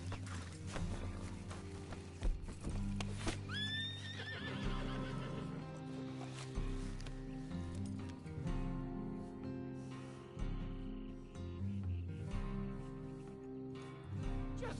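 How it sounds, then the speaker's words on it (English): A horse in the video game Red Dead Redemption 2 whinnies loudly over steady hoofbeats, with a rhythmic clip-clop continuing throughout and background music underneath, no talking. "Just get back on the horse, Arthur."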